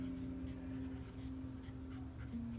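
A pen writing the word Cubism by hand inside a small box drawn on paper, a faint continuous scratchy rubbing under a steady low hum, with no talk.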